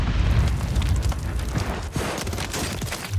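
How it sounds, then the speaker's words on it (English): A grenade detonates in the video game Warzone 3, a loud booming blast with a rumbling low-end tail and scattered crackling bursts, heard alone without talk. "He threw a perfect nade."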